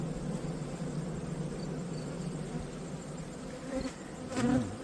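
Honeybees buzz steadily during a beehive inspection, a close, dense hum with a few louder passes near the end.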